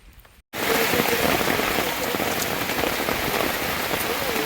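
Heavy rain pours down loud and close at Vandri Lake in Palghar, starting abruptly after a brief quieter moment and holding a dense, steady patter.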